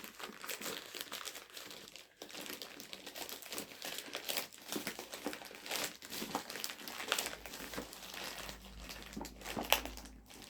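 Quiet close crinkling and tearing of packaging, irregular bursts of rustling plastic and paper as it is pulled apart by hand.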